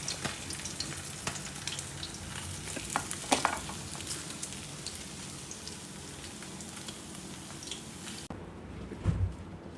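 Pabda fish fries in oil with a steady, close sizzle and a few light clinks of a utensil, then the sound drops away sharply near the end, leaving a brief low thump.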